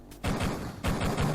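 Gunfire in Duke Nukem 3D: two loud, dense bursts of shots, each a rapid rattling volley after a quiet opening moment.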